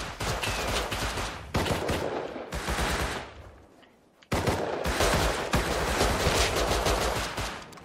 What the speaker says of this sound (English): I shot the guy.